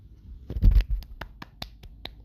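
A few sparse hand claps, quiet and unevenly spaced, follow a louder low thump near the start. No voices are heard.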